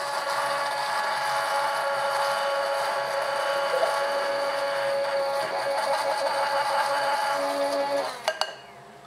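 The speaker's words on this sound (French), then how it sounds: "Je vais aussi mixer mon lait de courge, pareil," Blender whipping squash milk into a light froth: a steady, high-pitched motor whine runs without a break for about eight seconds, then cuts off, followed by a couple of small knocks.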